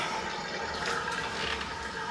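Water rushes and gurgles steadily, like a toilet flushing hard, a continuous close-up swirl without any voices.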